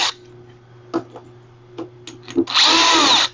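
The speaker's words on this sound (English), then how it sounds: "I'm using this drill to make it a little bit quicker." Several light clicks and taps, then a power drill removing screws from the top cover of a Razor E90 electric scooter whirs in a short, loud, high-pitched burst close by.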